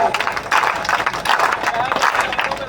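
A crowd claps along in steady rhythm at a live devotional Meldi Maa gathering with dak-damru music in Palitana, while voices talk and sing over the clapping.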